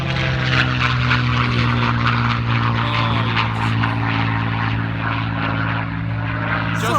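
P-51 Mustang propeller fighter flying overhead, a loud, steady droning engine roar with a low humming tone that holds for the whole stretch, slowly fading slightly toward the end.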